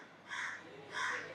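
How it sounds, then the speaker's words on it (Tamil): A crow caws outdoors twice, two drawn-out harsh calls about half a second apart, faint and distant against a quiet background. "இப்போ வெளியில ஒன்று காக்கான்னு கத்தி நிக்குது"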